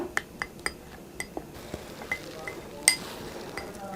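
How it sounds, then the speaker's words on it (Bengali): A spoon stirring a paste of raisins and corn starch in a bowl, heard as a string of light, close clinks and scrapes against the dish, with one louder ringing tap. "এখন কিশমিশ আর এই কর্ন স্টার্স ভালোভাবে মিক্স করে নিচ্ছি"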